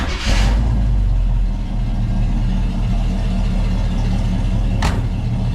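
A 1979 Jeep Wagoneer engine runs steadily at a close, loud, even idle, with a couple of brief sharp noises near the start and end.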